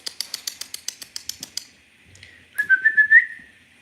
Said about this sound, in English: I'm whistling like I'm calling a dog.